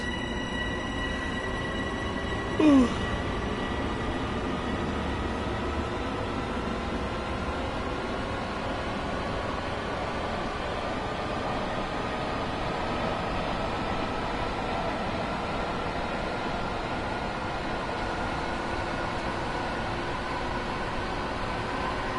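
Electric Class 377 multiple unit running in the Train Sim World video game, a steady rumble with rising motor whine tones throughout, one brief louder knock near the start, no talking.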